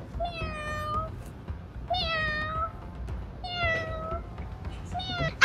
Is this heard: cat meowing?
yes